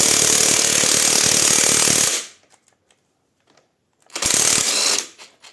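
Power tool, likely an impact wrench, spinning the central nut on a Mini Cooper S R56 engine during valve stem seal work; two loud close rattling bursts separated by a quiet pause with small clicks.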